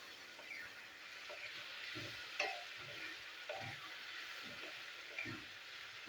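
Giant taro (mankochu) is stir-fried with hing in a pan, producing a soft, continuous sizzle with occasional low scraping strokes of the spatula.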